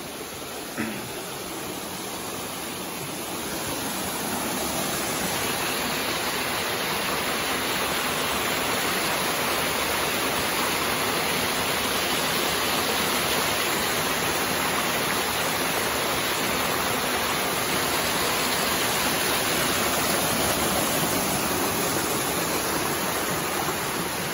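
Waterfall at Goa Batee Meucanang in Labuhan Haji, its water roaring as a dense, steady broadband rush. The sound builds over the first few seconds, then holds at full strength throughout with no voices over it.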